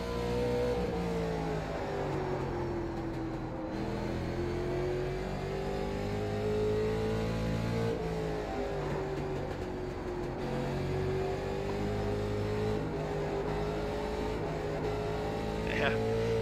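A late model race car at Concord in iRacing runs at full throttle, its engine a loud, steady drone that rises and dips in pitch through the corners and never stops.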